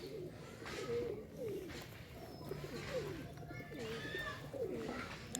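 Pigeons coo softly while feeding nearby, several repeated throaty rolling calls in a loose rhythm over a quiet background.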